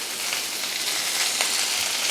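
Curry leaves frying in hot oil, a dense, even hiss of sizzling close up, unbroken for about two seconds with no voices.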